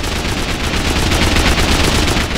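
Rapid, sustained automatic fire of explosive 5.56 ammo in the survival game Rust, a dense, loud, evenly spaced stream of shots with no pauses and no talking.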